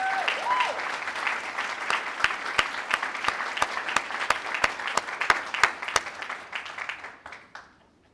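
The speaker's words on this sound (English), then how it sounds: "Please give them a round of applause" An audience at a city's State of the City event applauds fire and police honorees, a roomful of clapping with a few sharp, distinct claps standing out, gradually thinning and fading away.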